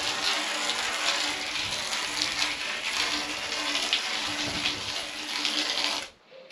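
Water gushing steadily through a bamboo irrigation pipe built into a bonsai pergola, a loud, close, continuous splashing rush that cuts off abruptly near the end, with no talk.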